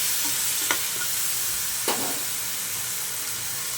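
A ground spice paste fries in a pan with a constant bright hiss, broken by two short scraping stir strokes, close and even.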